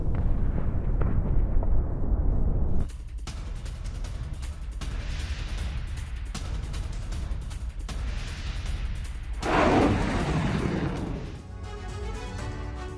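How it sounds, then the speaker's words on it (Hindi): Kalibr cruise missile launched from the Russian warship Admiral Makarov in the Sea of Azov: a loud, sustained roaring blast with rumbling, crackling bursts that swell again near the end, no voices. "आजोव सागर से दागी गई कैलिबर मिसाइल।"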